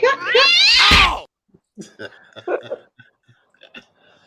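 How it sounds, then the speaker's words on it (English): A cat gives one loud, drawn-out meow close up. Scattered soft clicks, shuffles and faint sounds follow in a quiet room. "Cat."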